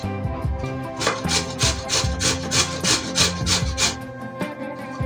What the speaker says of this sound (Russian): Картошку необходимо натереть на терке. Точно так же поступаю с морковью.